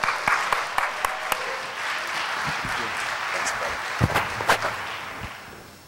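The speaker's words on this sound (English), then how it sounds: "So a big round of applause for Adam and Taz" An audience applauds at an evening event at Café Finjan, a burst of sharp claps and cheers that settles into sustained clapping before swelling again near the end, with voices mixed in.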